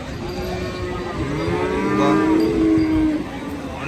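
Large cow at a Maattu Pongal cattle festival in Jaffna lets out one long, loud, close moo lasting a few seconds over steady outdoor background noise.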